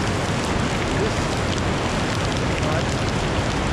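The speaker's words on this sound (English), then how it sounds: "There's all these drops of water coming down on it." Dense, steady patter of water droplets striking a barrel, like rain drumming continuously, with no pauses, near Las Ventanas de Tisquizoque, Florián, Colombia.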